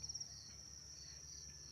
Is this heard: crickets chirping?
yes